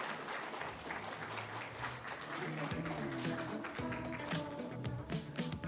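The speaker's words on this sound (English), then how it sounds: "please give a huge round of applause to Mr. Mandeep Basu" Audience applause for Mandeep Basu, director of Jagat Pharma, at a youth talk event, steady dense clapping throughout, with music and a voice rising over it in the second half.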